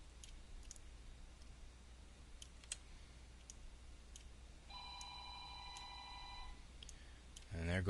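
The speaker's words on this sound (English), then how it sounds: "There goes my phone on cue." A phone rings once, a short faint electronic trill lasting under two seconds amid scattered quiet mouse clicks in a room.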